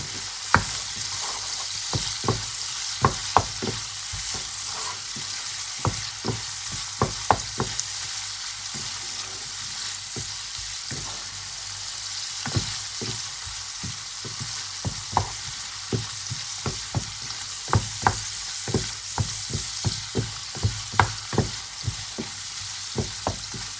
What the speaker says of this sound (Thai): เดี๋ยวเราจะผัดกุ้งไปแป๊บหนึ่งนะคะ ยังไม่ต้องให้สุกดี